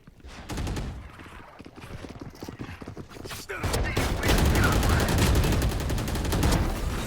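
Shotgun fire in the Valorant video game, with sharp gunshot bursts in quick succession. Heavier, denser shots and impacts follow midway, loud and close, with game effects in the background.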